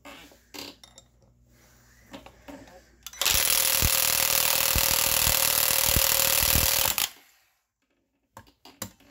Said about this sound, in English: I've got this M12 palm nailer, and it just takes regular air hammer